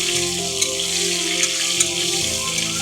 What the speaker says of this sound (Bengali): এবারে আমি আমগুলো এর মধ্যে দিয়ে দিচ্ছি, একটু ভেজে নেব।